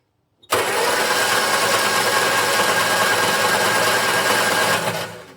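A Hillman Minx starter motor cranks steadily after the solenoid button on the back of the starter is pressed. The loud, fast, even churning starts abruptly and holds for several seconds, then fades at the end, with no voices.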